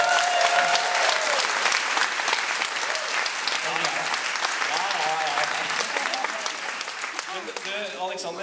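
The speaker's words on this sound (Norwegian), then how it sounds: "Applaus." Audience applause at a Tønsberg stage show, a full, steady clapping of a crowd that stays loud throughout and tapers slightly toward the end.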